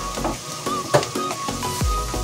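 Fried diced tofu stirred in a hot pan for tofu sisig, a steady close sizzle of frying with soft scraping stir strokes and a couple of brief utensil knocks over it.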